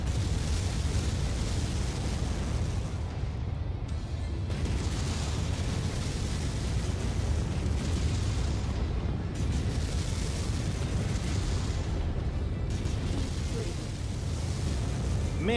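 Mech bombardment in MechWarrior 5 keeps up a continuous, loud roar of overlapping explosions and heavy rumble for the whole stretch, with a few brief dips in the wash of noise and no clear gaps between blasts.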